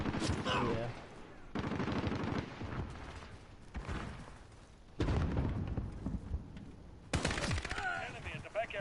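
Bursts of automatic gunfire in the Modern Warfare video game, several loud, rapid volleys separated by short pauses, with a heavy boom near the start and voices talking in between.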